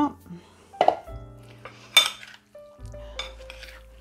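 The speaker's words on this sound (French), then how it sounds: "Je fais une vinaigrette avec de l'huile d'olive et du vinaigre de cidre, du sel, du poivre." Utensil clinks and stirring against a bowl while mixing a vinaigrette of olive oil, cider vinegar, orange juice, salt and pepper, a few sharp taps with quiet scraping between.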